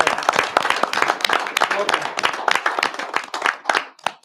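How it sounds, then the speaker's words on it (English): Audience applause at a village board meeting, a steady burst of hand clapping from a modest crowd lasting several seconds, fairly close and dense. "if we could just give him a round of applause and his family as well"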